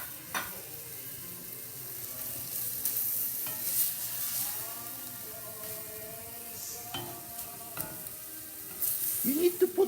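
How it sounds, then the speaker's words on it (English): Garlic and onion sizzle in a pan for a meat sauce, a soft continuous frying hiss with scattered spoon scrapes and light clinks, nearby and without speech. "now we put the garlic and onion. And we make a nice cook"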